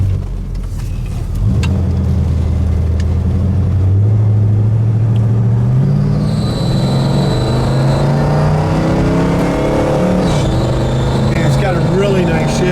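A 1968 Pontiac GTO roars close up, accelerating hard with the engine note climbing, dropping at each gear change from second into third, then rising again; people talk over the loud, steady engine.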